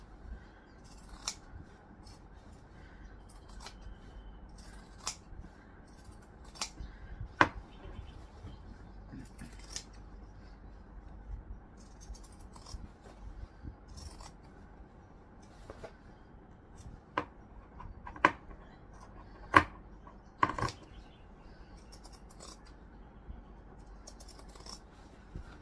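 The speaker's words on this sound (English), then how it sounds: "zigzag scissors. Because the whole thing's a curve, we are just going to trim off the excess." Zigzag pinking scissors trim away excess fabric along a curved seam, giving a series of crisp, separate snips at an uneven pace over a quiet room background.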